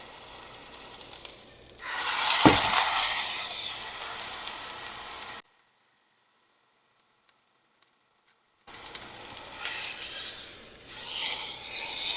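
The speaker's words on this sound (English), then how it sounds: "Give it another sear on the sides as well." Pork sears in a hot pan with a loud, steady sizzle that cuts out to silence, then returns with bubbling and spattering.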